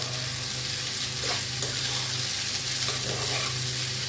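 Vegetables and tomato sizzle in a pan for white sauce pasta, with a continuous close frying hiss and occasional stirring scrapes, no talk.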